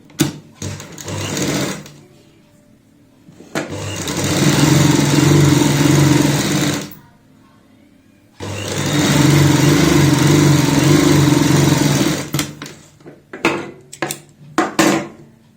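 A sewing machine stitches strips for a kurti neckline in two long, steady whirring runs separated by a pause, followed by short bursts and clicks.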